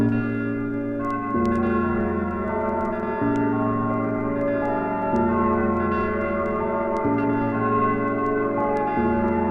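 Bells ringing as a Halloween sound effect, a steady sustained peal with tones changing every couple of seconds, loud and continuous with no voices.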